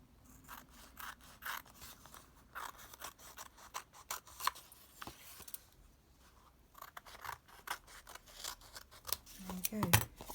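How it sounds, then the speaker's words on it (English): Scissors trimming excess paper off a collage postcard, close up: repeated crisp snipping cuts in an irregular rhythm, fairly quiet, with soft paper rustling between them. "Just to trim off the excess paper."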